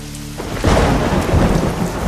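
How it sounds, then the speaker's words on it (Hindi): Heavy rain pours down as a loud rumble of thunder rolls in and swells, dense and close, with no voices. "बारिश भी अब इतनी तेज होने लगी है कि चारों तरफ पानी की चादर सी फैल गई है।"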